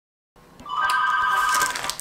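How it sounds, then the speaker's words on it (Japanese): A telephone rings at home in a kitchen, its bright electronic warble starting after a short silence and carrying steadily and loudly to the end. "あ、電話かかってきました。"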